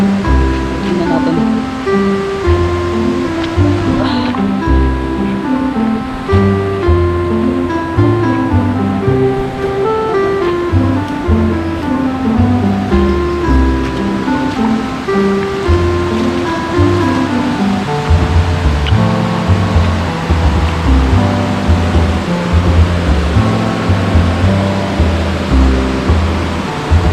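Strong flowing water in a creek where tilapia are being fished, a continuous loud rushing wash under steady tonal music, constant and close throughout.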